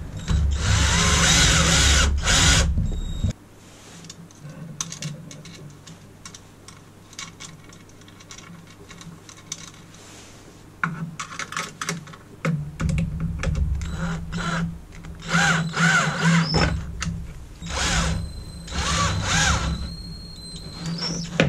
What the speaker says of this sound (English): And securing them into place using nylock nuts.